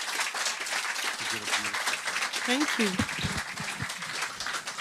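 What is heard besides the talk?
audience applause for the author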